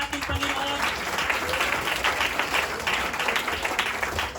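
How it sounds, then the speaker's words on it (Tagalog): A church congregation breaks into loud sustained applause during a worship service, dense steady clapping from a crowd with a few voices mixed in. "Malakas na palakpak sa ating Panginoon."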